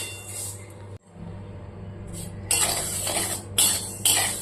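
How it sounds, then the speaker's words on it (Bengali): Mung dal is dry-roasted in a pan, heard as scattered scraping and stirring rattles with bursts of sizzling hiss in the second half, fairly quiet and close, with no talking. "তাই প্রথমে মুগ ডালগুলোকে ভেজে নিচ্ছি"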